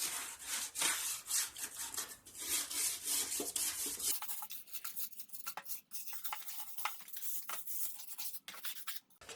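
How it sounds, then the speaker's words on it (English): A stiff wire brush scrubs dried, stuck-on grass off the deck of a 2023 Craftsman M110 lawn mower, giving steady, close rasping strokes in quick repeated bursts with no talking. "This is a stiff wire brush. I'm going to get as much of that dried stuck on grass off the deck as possible."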